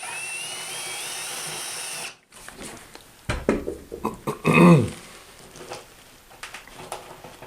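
Short bursts of scraping and grinding as a hole in drywall is reamed out for a towel bar install, irregular rasping strokes close by after a steady hum cuts off.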